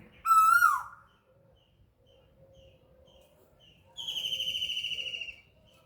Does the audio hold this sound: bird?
yes